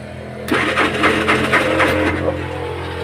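A Royal Enfield motorcycle engine with a high idle cranks and catches, sputtering in rapid pulses for about two seconds before settling into a steady low idle, close and fairly loud.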